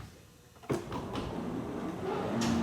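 An elevator door slides open with a sudden thump and a rolling mechanical rumble that carries on steadily, close and fairly loud, with a faint higher whine near the end.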